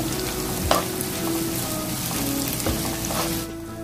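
Chicken sausage pieces frying in a pan for fried rice, a steady close sizzle with a couple of sharp clinks of a utensil against the pan, the hiss cutting off near the end.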